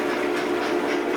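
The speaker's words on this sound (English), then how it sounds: "we've got the trains running with the sound" A model train set runs on a layout with its sound effects on, giving a continuous rolling clickety-clack rumble at a steady, moderate level with no talking.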